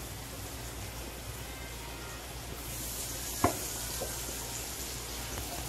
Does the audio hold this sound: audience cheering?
no